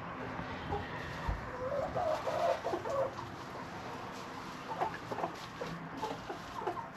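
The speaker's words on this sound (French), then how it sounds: "je vais te présenter le coq que tu n'as pas encore vu" A small rooster and hens in an outdoor farmyard cluck and chatter on and off, several birds fairly close, with short calls and a brief burst of louder clucking partway through.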